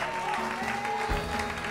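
A church congregation applauding the Lord, dense continuous clapping filling the room, steady and loud throughout, with a voice faintly underneath.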